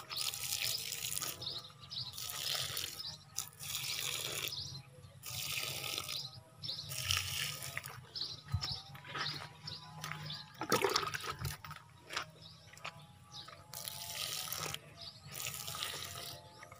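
Water gushes in repeated bursts while plants are watered outdoors, each surge lasting about a second and loud and close, with birds chirping faintly in the background.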